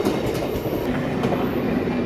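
A train rolling along a railway line as a sound effect in a cartoon ghost story. The rumble of the rail cars is loud, close and continuous, with no talk.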